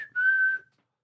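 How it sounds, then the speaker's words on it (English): A single short, clear whistle from a person, a steady tone lasting about half a second, close and alone in quiet surroundings. "I just whistle"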